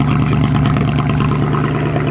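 A stock Mercedes C63 AMG V8 runs after repair, a steady, loud, close-up engine rumble that holds an even pitch throughout with no voices.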